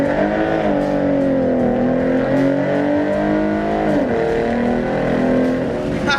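A Mustang with 3.73 gears accelerates hard from a rolling start, its loud engine note climbing steadily in pitch, dipping briefly as it shifts, then rising again, with no one talking over it.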